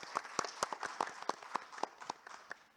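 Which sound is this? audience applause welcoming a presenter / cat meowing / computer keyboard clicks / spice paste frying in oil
audience applause welcoming a presenter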